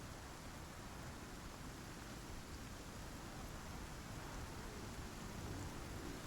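A rainstorm in the survival video game Icarus gives a steady, dense hiss of rain that fills the whole clip, with low rumbling in the bass. It is continuous and fairly quiet, with no voices.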